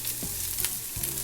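Carrots, onions and garlic frying in oil in a pan, a steady bright sizzle with a few soft stirring knocks, close and alone without talk.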